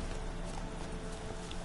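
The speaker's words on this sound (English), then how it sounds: "Hey, I'm taking the guard's horse." Hooves of a horse in The Witcher 3 video game clip-clop in a quick, steady gait, faint and continuous with no speech.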